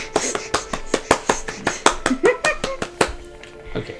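Villagers in the video game Dragon Quest Builders 2 clap in a run of sharp, distinct hand claps with an irregular rhythm, over a faint game tune and brief chirpy game sounds.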